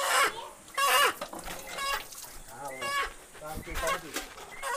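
A rooster clucks and calls close by in a village during a Marathi family gondhal ritual, its sounds mixed in with people talking nearby.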